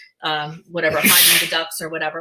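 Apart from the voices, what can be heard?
sneeze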